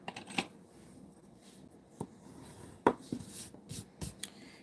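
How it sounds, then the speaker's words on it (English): A paper card base being folded and burnished by hand: soft rustling and rubbing with a few sharp crisp creases and taps, close and fairly quiet. "We're going to fold and burnish this."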